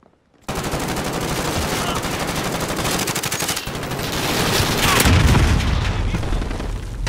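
Call of Duty Modern Warfare combat roars almost without a break: dense rapid gunfire with booming blasts swells into a heavier explosion near the end, loud and close.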